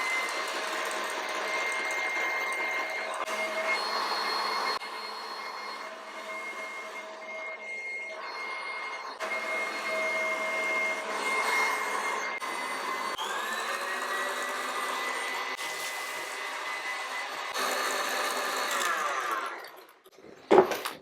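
An electric mixer whips egg whites at its highest speed, with sugar gradually added, for a flan. It makes a steady, continuous motor whir with a shrill ringing tone that shifts a little as it runs, and the sound cuts out abruptly near the end.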